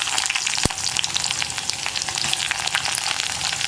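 Loud, continuous sizzle of round-cut onions frying in hot oil after mustard seeds have popped, close up, with a sharp metallic clink early on.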